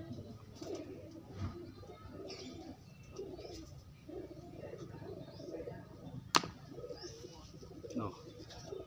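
A female pigeon coos in low, repeated bursts close by, with chirps from other birds and one sharp click, as people talk quietly in the background.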